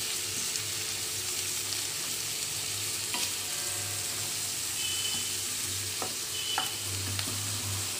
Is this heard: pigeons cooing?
no